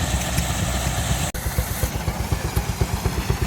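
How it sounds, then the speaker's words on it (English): An A.D. Baker Company steam engine from Swanton, Ohio runs at an outdoor restored machinery show, giving a steady, close, rhythmic low chugging with regular beats and a brief dropout partway through, amid a constant outdoor background with no talking. "that steam engine. It says A.D. Baker Company, Swanton, Ohio."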